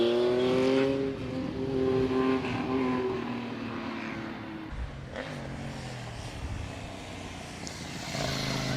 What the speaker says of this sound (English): We're watching Dave Norris on the KTM Duke.